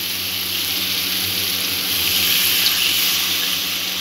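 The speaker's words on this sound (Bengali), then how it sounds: "আমি জল দিয়ে দিই" Water pours into a pan of poppy seed masala in a steady, loud, close rush that swells a little in the second half. It continues for the whole stretch with no voices.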